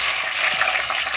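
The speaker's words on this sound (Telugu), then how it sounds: "ఇప్పుడు ఆయిల్ పోసుకుంటున్నాము." Oil poured into a pan for village-style Telugu boti curry, heard as a close, steady hissy sizzle with no speech.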